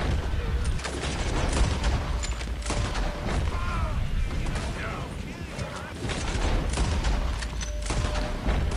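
Lancaster rifle fire in the video game Red Dead Redemption 2: several sharp shots at irregular intervals over mechanical clatter and game ambience.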